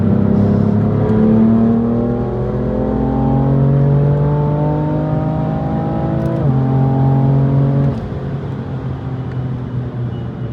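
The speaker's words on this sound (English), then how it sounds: "Guys, the car's fast." BMW M3 Competition accelerating hard from inside the cabin, a loud engine note climbing steadily through the gears, with quick drops at each upshift and continuous road roar underneath.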